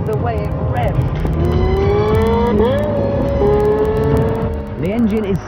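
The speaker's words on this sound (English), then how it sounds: "the most amazing thing is the way it revs." A high-pitched Lexus LFA V10 sports car engine revs repeatedly, its whine climbing sharply and dropping between bursts, loud and close.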